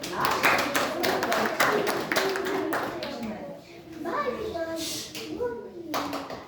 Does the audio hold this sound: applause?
yes